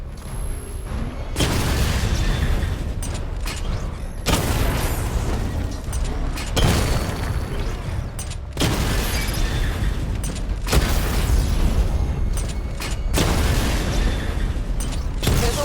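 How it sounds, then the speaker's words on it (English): Repeated loud missile barrage explosions from the Batmobile in Batman: Arkham Knight, about six heavy booming blasts spaced a couple of seconds apart, each followed by a rumbling tail. "Charge the missile barrage to level 2 to destroy up to 4 targets at once"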